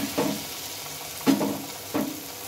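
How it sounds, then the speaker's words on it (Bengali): Battered carrot snacks dropped into hot oil, three separate bursts of sizzling splutter that each fade into a soft steady frying hiss, close and moderately loud. "এবার এটা আমি তেলে এখন ভেজে নেব"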